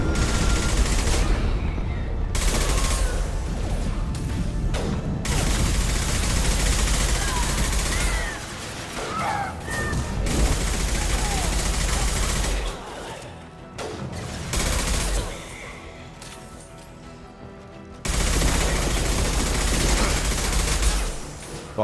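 Gunfire in the video game Mass Effect, dense bursts of rapid shots and blasts that run almost continuously with brief lulls, loud and mixed with game sound, with voices at times beneath.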